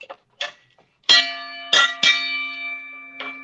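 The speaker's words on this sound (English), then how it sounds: "Shucky, he rung the bell." A metal bell is struck several times in a slow, irregular pattern, each bright clang ringing on with a long sustained tone, preceded by a few short light taps.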